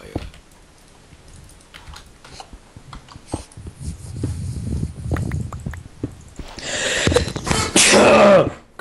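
A sneeze bursts out loudly near the end, amid scattered clicks and keyboard typing during Minecraft play, with brief noisy movement before it.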